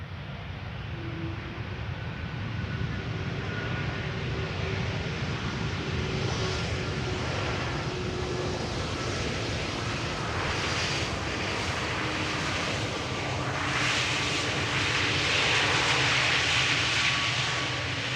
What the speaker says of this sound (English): In the meantime, the next airplane is touching down. Let's see, yeah, there it is, Air Baltic